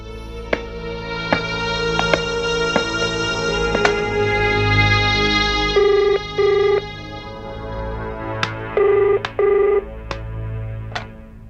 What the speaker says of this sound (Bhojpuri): जाके सलोनी के फोन तो करा।